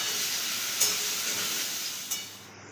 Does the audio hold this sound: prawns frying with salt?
yes